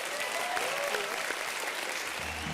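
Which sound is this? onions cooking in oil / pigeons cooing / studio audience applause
studio audience applause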